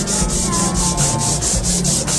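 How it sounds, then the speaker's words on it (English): Sandpaper rubbing back and forth over a painted surface, the sanding strokes steady and rhythmic, about nine passes, close and fairly loud with no voices. "And now we're sanding it back down again."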